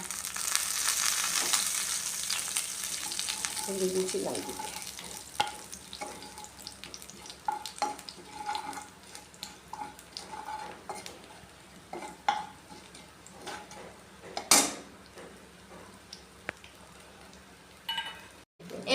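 Cumin, nigella and fenugreek seeds frying in a pan for cabbage curry, a soft steady sizzle broken by scattered clicks and scrapes of stirring, with no voices.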